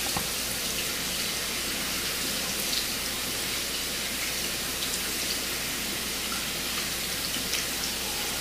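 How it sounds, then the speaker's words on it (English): Steady broadband rush of hot water streaming from a tap, continuous and fairly close, with no voices. "And just rinse it off with the hot water"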